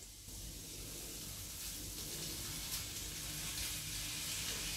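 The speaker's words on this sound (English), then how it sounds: "Beef has been frying for about 4 minutes as well." Beef sizzles steadily in a pan with onions, a dense, constant frying hiss with occasional pops, close and unbroken for the whole stretch.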